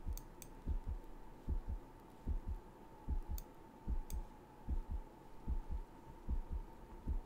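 Low heartbeat thumping in the background of the fantasy game Archmage Rises, steady double beats repeating about once a second over a faint hum, with occasional clicks.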